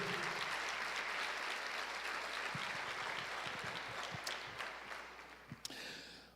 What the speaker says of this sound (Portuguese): Vamos aplaudir o Senhor porque Ele merece.